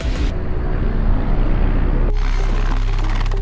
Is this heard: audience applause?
no